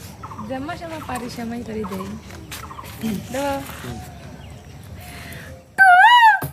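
A person imitates the call of an Asian koel with the voice, a series of rising whooping calls that end in a loud, close warbling whistle.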